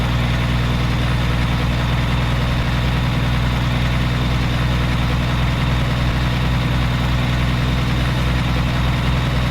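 Low, steady diesel-style idle of a big rig engine in the 18 Wheels of Steel trucking game, a constant rumble with no change in revs and no talk over it.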